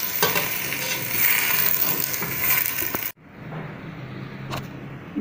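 Mutton pieces frying in a pan for white mutton kharai, a dense crackling sizzle with scraping stirs for about three seconds, then a sudden drop to a quieter low sizzle with a single metallic clink.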